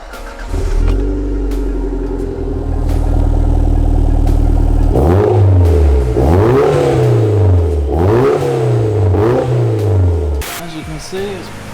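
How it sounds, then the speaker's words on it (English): A Toyota MR2 brought into a garage workshop for an alternator change idles steadily at close range, then its engine is revved several times in rising and falling surges, with workshop clatter and possible talk underneath. "next up we have a MR2 coming in for an alternator change"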